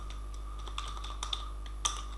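Typing on a computer keyboard, a run of light, irregular key clicks close by with a few sharper taps, no talking.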